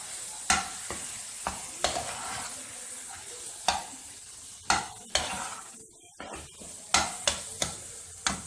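Carrot halwa stirred with cardamom powder and almonds, a spoon scraping the pan in repeated sharp strokes over a soft background sizzle, with a brief quiet gap near the end.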